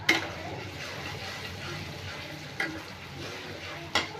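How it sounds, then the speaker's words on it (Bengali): Onions frying in oil as the first step for cooking duck meat, a steady close sizzle with occasional stirring scrapes and light clatter. "তো এখন একটু পেঁয়াজটা লাল লাল করে ভাজবো।"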